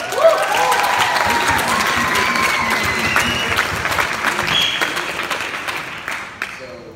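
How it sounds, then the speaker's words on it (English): Wedding guests at a reception break into sustained applause during a father's speech, a thick steady patter with a few cheers and whoops rising through it, fading out near the end. "Can we get a round of applause?"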